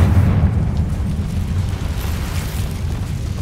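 A deep, rumbling blast from the Confringo fire spell in the video game Hogwarts Legacy rolls on as a heavy low boom with a sustained, crackling tail, loud and close with no talk over it.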